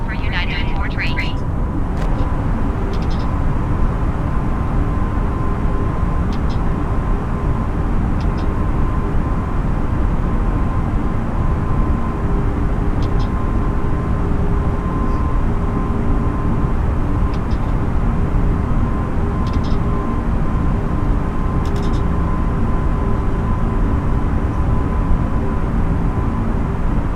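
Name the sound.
airliner taking off in Microsoft Flight Simulator video game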